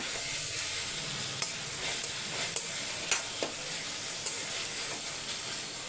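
Onions sauté in a pan for chicken thokku: soft, steady sizzling with a few light stirring taps, fairly quiet and close, no talking.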